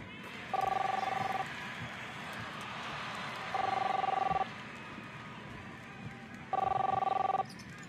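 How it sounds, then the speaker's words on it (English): In the video game Captain Spirit, a telephone rings three times in evenly spaced, bright electronic bursts over a steady low room hum. "Chris, answer the phone, please."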